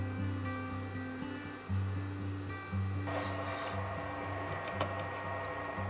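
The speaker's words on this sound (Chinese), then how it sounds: "2分的椴木板很轻松的就切掉了" A laser engraver cuts through 2 mm basswood board with a steady machine hum and whirring fan, tonal motor notes stepping as the head moves, plus faint rubbing textures, moderately quiet and continuous.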